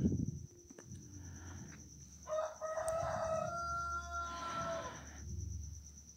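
After a brief rustle, a rooster lets out a long crow a short distance away, with a faint steady hum and insect buzz behind it.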